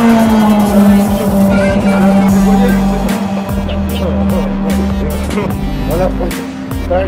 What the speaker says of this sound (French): on vient de mettre les ventilateurs là juste derrière le pont de refroidissement